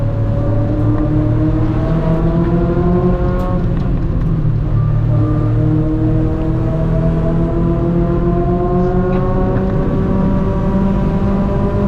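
Race car engine held under throttle at Mid-Ohio, loud and close, droning continuously as its pitch climbs through the gears with repeated upshifts and no talk.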